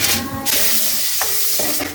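Loud crackling sizzle of mustard seeds, urad dal and chana dal frying in oil, with stirring scrapes and short bursts of hissing, close up.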